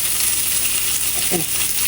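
Bacon frying in a pan gives off a steady, close sizzle and crackle with a few small pops, with no talking over it.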